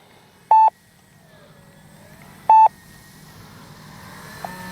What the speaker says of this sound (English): Timer expired.